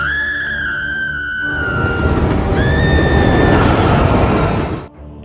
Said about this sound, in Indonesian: sebuah kereta lewat dan kereta itu melindas tubuhnya